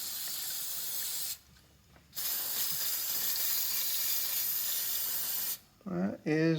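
Spray top coat hissing from a can onto a 2009 Tacoma, a steady loud hiss in two long bursts separated by a short pause, followed by brief talk at the end.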